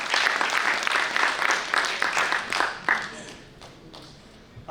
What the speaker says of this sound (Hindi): आप चाहे तो एक बार तालियां बजाकर उनका स्वागत कर दें